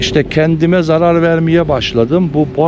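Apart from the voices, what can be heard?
No distinct noise like a dog, phone or traffic.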